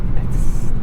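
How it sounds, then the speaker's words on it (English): Inside a 2021 Hyundai Sonata N Line cruising on the highway, a steady low road roar and airy wind rush fill the cabin, constant and fairly loud with no voices. "I keep looking around to find where road noise and air noise is coming in from."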